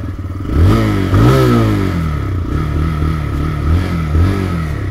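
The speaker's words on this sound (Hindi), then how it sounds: "एंड उसकी देखो नॉर्मल आवाज़ भी इसकी कहीं ना कहीं एग्जॉस्ट की अच्छी पड़ती है" TVS Raider 125 motorcycle exhaust revving up and down several times nearby, a loud throaty engine note rising and falling with each throttle blip, no talking.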